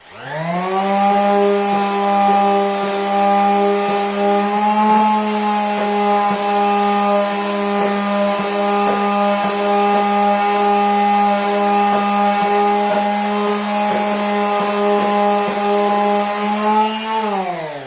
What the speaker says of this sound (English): Now I'm going to sand with the grain like this.